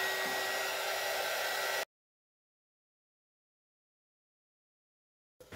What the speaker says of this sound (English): So I'm just going to help it along with my heat gun here.